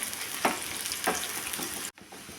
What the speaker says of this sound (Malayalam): ഇപ്പോൾ ഉള്ളിയും കറിവേപ്പിലയൊക്കെ ഇവിടെ മൂത്ത് വന്നിട്ടുണ്ട്.